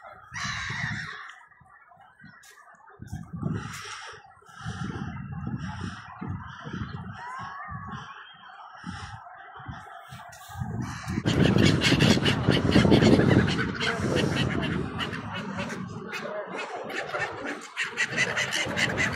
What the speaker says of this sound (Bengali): সব জায়গায় গাংচিলগুলি আছে। লন্ডনের ভিতরে গাংচিলগুলি সুন্দরই লাগে।